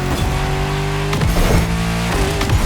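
A luxury hypercar with four-figure horsepower revs loudly in a video game, its steady engine drone rising and falling through two sharp throttle blips with short gear-change dips.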